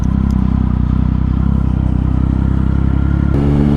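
A motorcycle with a loud aftermarket exhaust drones steadily at speed on a road ride in Rajasthan, its engine rumble and rattle dominant and close, shifting pitch near the end.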